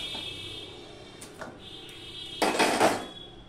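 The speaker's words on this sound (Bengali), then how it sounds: "এবার আমি এটা একটা থালায় তুলে নিচ্ছি।" Roasted brinjal set down onto a metal plate: a few light metallic taps early, then a louder clattering burst of plate contact near the end, close, over a steady background hum.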